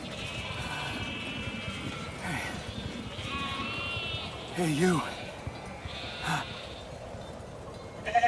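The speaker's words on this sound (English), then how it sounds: "Am I herding sheep now?" Sheep bleat several times in the video game The Alters, wavering cries around the middle of the clip over steady ambient game noise, with someone talking briefly.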